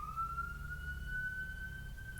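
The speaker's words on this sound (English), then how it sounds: "Sorry about the sirens and all the noises." A single siren wails steadily from a distance outdoors, its tone slowly rising, over a low rumble of background noise.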